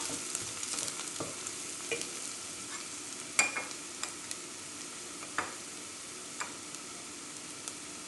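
Garlic sautéed in a pan for a spicy bulgur soup, a soft steady sizzle broken by scattered clicks and taps of a spoon against the pan, no voices.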